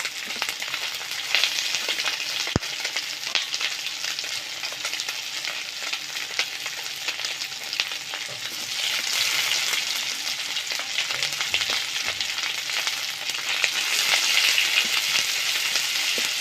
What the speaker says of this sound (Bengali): মাছের সঙ্গে পেঁয়াজটা এখন ভালোভাবে ভেজে নেব